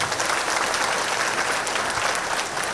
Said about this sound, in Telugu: ఒక్కసారి చార్మినార్ ర్యాలీకి గట్టిగా చప్పట్లు కొట్టండి.